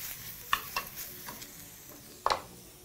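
Sultanas are stirred into a soy lamb stew, giving a few scattered scrapes and clicks of a utensil against the pot over a faint background sizzle, with a louder stroke near the end.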